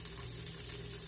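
A tortilla toasting in a pan for birria tacos gives a steady, close sizzle with a faint low hum underneath, continuous throughout with no talking.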